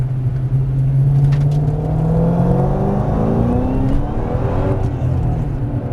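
A Ford Mustang Shelby accelerates on a wet drift course from inside the car, its engine droning loud and steady as the pitch climbs gradually.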